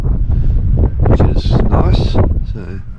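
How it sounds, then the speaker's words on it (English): Heavy wind buffets the microphone on a boat anchored off the beach at Hervey Bay, a loud low rumble that goes on throughout while someone talks over it. "sorry about the wind"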